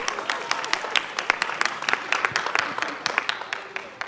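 Scattered applause from a small audience at a city virtual concert, individual sharp claps clearly separated and fairly close, steady for four seconds with a little background murmur.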